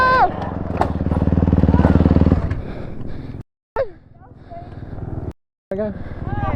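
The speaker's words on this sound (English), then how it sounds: "Shoot on that two-stroke quad." Two-stroke quad engine revs loudly and close by for a couple of seconds, then drops to a rougher idle with brief cutouts, while people talk over it.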